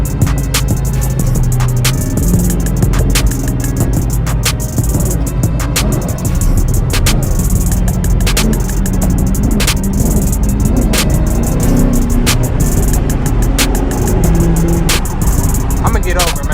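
A straight-piped Chrysler 300S Hemi V8 roars loud and close from inside the car at night, its raw exhaust note rising and falling through a couple of downshifts with crackling pops, a voice briefly audible over it.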